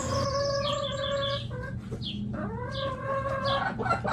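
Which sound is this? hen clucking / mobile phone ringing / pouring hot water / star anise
hen clucking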